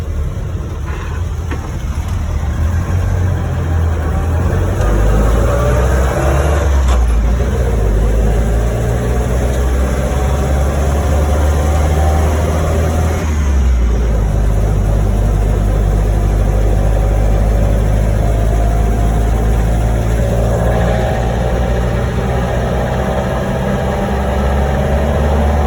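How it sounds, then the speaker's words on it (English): A Land Rover Series One drives steadily with a continuous low engine drone and smooth gear whine, revs shifting gradually as it travels, close and loud throughout with no talking. "Nice quiet gearbox, nice quiet Land Rover"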